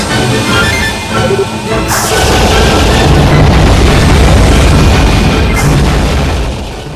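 Gunfire and explosions from the GameCube shooter StarFox Assault, loud and dense, opening with rapid shots and then a sustained booming barrage of blasts and crashes that fills most of the clip.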